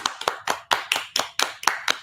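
A quick run of crisp hand claps, about four per second and fairly close, like a small burst of applause from one person, with no talk over it.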